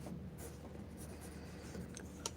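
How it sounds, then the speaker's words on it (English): Pencil sketching on paper gives a soft, continuous scratchy rasp with a few light taps, close and quiet, and no talk. "This pencil is great for sketching."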